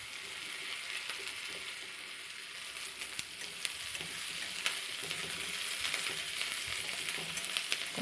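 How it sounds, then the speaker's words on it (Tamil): Onions and mustard seeds sautéing in hot oil give a steady, close crackling sizzle with scattered sharp pops and light stirring clicks throughout, with no voices. "வெங்காயம், கடுகு, எண்ணெய் எல்லாம் ஊற்றி வதக்கிட்டுருக்கேன்"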